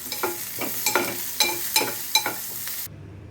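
Chopped onion and tamarind frying in a pan, stirred with a spatula in a regular rhythm of scraping strokes over a soft, continuous sizzle, close up and without speech.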